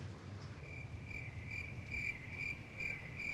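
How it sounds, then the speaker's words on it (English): Crickets chirp in a steady, regular pulse, used as a sound effect over an awkward silence in a living room, moderately loud against a soft background hiss with no voices. "It's literally crickets in the living room as Annie continues to talk"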